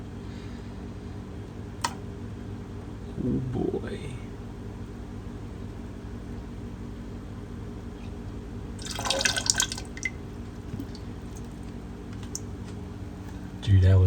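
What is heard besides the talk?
hot water being poured in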